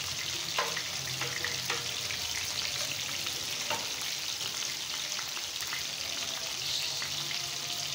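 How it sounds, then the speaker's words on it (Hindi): Onions fry in a pot with a steady hissing sizzle and occasional light clicks of stirring, moderately quiet and close, no one speaking. "अब हम इसमें अपना प्याज शामिल कर देंगे।"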